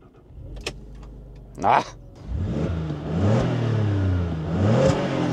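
A 2006 Alfa Romeo Brera 3.2 JTS Q4 is started with a held button, and the engine catches after a short crank, then revs up and down loudly and close by, with a brief exclamation.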